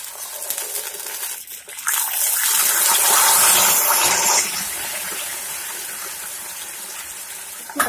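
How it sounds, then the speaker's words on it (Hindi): About two spoonfuls of water are poured into hot caramelized sugar in a pan for kheer, setting off a loud, close hiss that swells for a couple of seconds and then settles into a steady, quieter bubbling sizzle. "तो अब इसमें हम 2 चम्मच जितना पानी डाल देंगे।"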